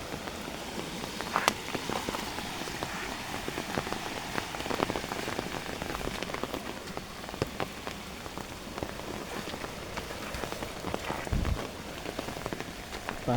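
Steady rain patters across rice fields throughout, a dense even hiss with scattered louder drops, no voices.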